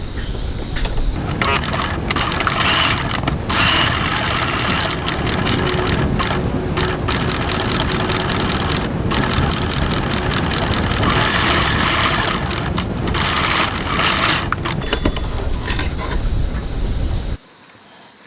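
A sewing machine set to a 3.4 stitch length runs around a wallet tab, a steady close mechanical hum with small pauses that cuts off sharply at the end.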